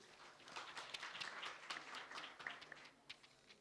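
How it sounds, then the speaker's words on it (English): Audience applause at the Istanbul Youth Summit 2024, a dense, steady patter of many hands clapping at once that fades slightly toward the end. "Give applause for every one of you."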